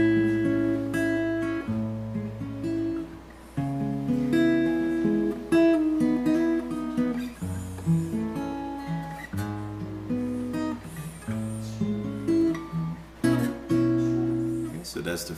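A guitar plays the chorus of an R&B song, clean, sustained chords in a steady, moderately loud progression with plucked melodic notes ringing between the changes, no voices.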